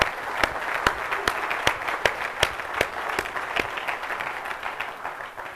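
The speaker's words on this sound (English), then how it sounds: "Can we have a round of applause for all the people," An audience at a talk on the future of AI applauds sponsors and volunteers, a loud, continuous crowd of clapping with several sharp, rhythmic claps standing out up close before it gradually tapers off.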